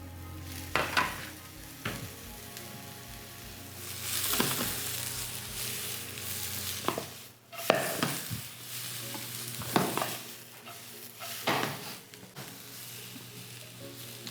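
Vegetables with bell pepper stir-fried in a pan for tofu noodles, a steady close sizzle broken by repeated bursts of scraping and tossing as the spatula stirs, no voices.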